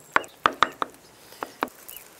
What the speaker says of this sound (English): I roughly chop it with a knife